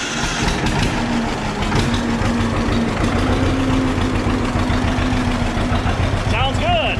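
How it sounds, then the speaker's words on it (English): An old John Deere 520 tractor engine runs at a steady, loud, close idle, a constant low rumble throughout, with a brief rising whine near the end. "So let's fire these old tractors up."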